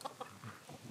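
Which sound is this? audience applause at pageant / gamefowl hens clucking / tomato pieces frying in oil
gamefowl hens clucking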